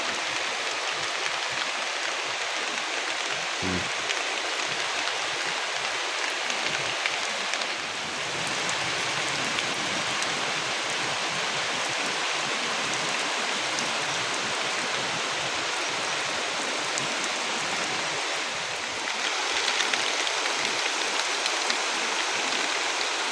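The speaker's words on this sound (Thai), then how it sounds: "โอ้ฝนมาแห้งเลยพี่น้องเอ้ย" Steady rain pours down on a farm field in Thailand, a dense even hiss of drops that holds for over twenty seconds, thinning briefly partway through and swelling again near the end, with no voices.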